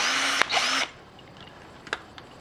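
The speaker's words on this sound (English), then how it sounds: "We drilled a hole at a slight angle with a variable speed bit." Power drill with a variable speed bit boring a hole at a slight angle, a loud whirring burst of under a second that stops abruptly, followed by quiet handling clicks and taps.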